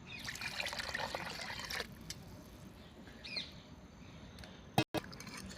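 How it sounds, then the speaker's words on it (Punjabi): A small amount of water trickles and splashes into a simmering curry pan for a few seconds. It is close but quiet, followed by near silence and one brief sharp knock. "ਆਪਾਂ ਜੀ ਥੋੜਾ ਜਿਹਾ ਪਾਣੀ ਜੀ ਹੋਰ ਪਾ ਰਹੇ ਹਾਂ"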